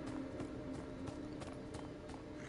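Horse hooves clip-clopping at a steady trot while riding in the video game Beyond Two Souls, a regular rhythm of soft thuds, fairly faint under a low background hum.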